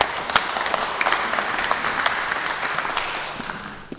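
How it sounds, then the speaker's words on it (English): An event audience gives a round of applause for Alan Hume, a dense, even patter of many hands that holds for several seconds and slowly tapers toward the end. "So big round of applause for Alan Hume, please."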